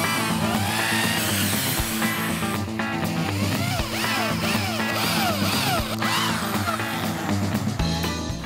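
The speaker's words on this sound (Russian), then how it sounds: "Берем дрель со специальным сверлом и продолжаем сверлить насквозь." A power drill fitted with a special bit bores straight through plywood, a steady loud whine with shifting pitch and rough grinding texture running continuously, close up, with no talking.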